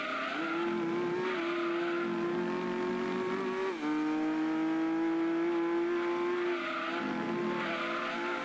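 A Nissan Skyline GTS25 racing car in Gran Turismo 2 drones at high, steady revs, with pitch holding, dipping briefly at a gear change, then climbing again, loud and continuous with no talking.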